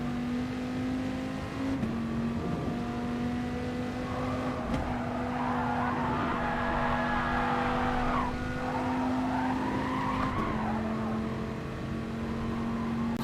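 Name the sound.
race car tyres sliding and squealing in GT Sport video game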